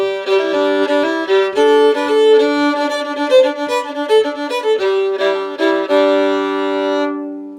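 A solo fiddle plays a variation on the folk tune Handsome Molly, with bowed melodic phrases flowing steadily and close for several seconds, without any talking.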